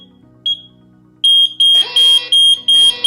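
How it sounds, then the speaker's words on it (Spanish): A loud Ajax Systems home security alarm beeps in repeated short bursts after a single early chirp, a shrill pulsing tone sounding on its own indoors. "la alarma sigue sonando"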